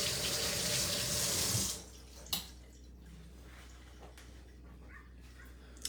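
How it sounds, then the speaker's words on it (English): Hands being washed under a running kitchen tap, a loud steady gush of water for under two seconds, then the flow stops, leaving a quiet room with a couple of small knocks. "Let me wash my hands."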